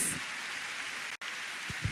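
Audience applause for volunteers in a church service, a steady, hissing wash of many clapping hands that briefly cuts out, then resumes, with a few closer thumps near the end.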